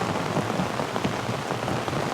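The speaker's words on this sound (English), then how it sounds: "That is officially a rainstorm." Heavy rain pours steadily onto a tent during a rainstorm while canoe camping on a wild river, a loud, dense, continuous hiss of drops drumming on fabric with no voices.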